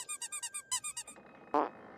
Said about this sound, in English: play with her squeaky toy